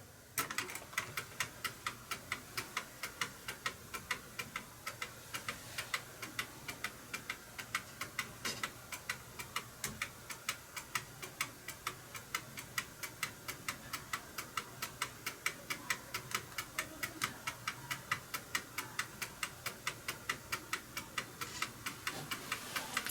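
Steady mechanical clock ticking carries on without a break, each beat crisp and even, with a faint background hum and no voices.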